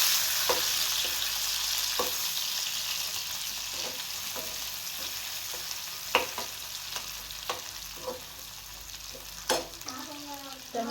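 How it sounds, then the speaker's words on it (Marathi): Tomatoes frying in a pan with browned onions give a steady, bright sizzle, broken now and then by the scrape and clack of a spoon stirring. "इथे आपले कांदा ब्राऊन झालेला आहे त्याच्यामध्ये टोमॅटो टाकू टमॅटो पण फ्राय करून"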